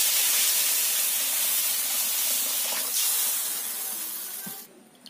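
Water poured into a pan of fried spices, including Kashmiri chili powder, for a chana dal, giving a loud, steady sizzling hiss of steam that fades out near the end.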